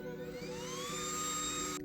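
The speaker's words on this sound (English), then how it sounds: "I can just use my fan" A small handheld fan blows with a steady electric motor whine and rising tonal hum, continuous and close, ending abruptly as it cuts off.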